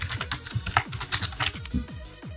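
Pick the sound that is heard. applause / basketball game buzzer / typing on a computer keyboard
typing on a computer keyboard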